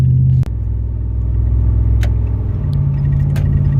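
A cammed Dodge Ram truck pulls hard on the highway: a loud, deep engine rumble drones close and steady, with one sharp break like a gear shift early on before the roar carries on.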